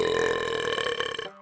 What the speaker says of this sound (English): Finally, a big old burp